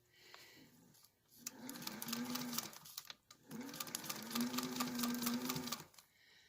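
A domestic sewing machine stitching fabric guided along a 1/4 inch presser foot: two steady, whirring runs of rapid needle clatter separated by a short pause, close and fairly quiet.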